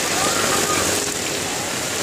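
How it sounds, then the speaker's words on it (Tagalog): Heavy rain pours down during Typhoon Dante near a highway and flood control area, a dense, constant rushing roar of water that fills the whole moment without pause. "Malakas pong ulan."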